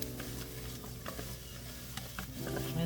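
Garlic stirred and sizzling in a pan while making green plantain soup, a steady close frying hiss with soft scraping stir strokes and light clinks.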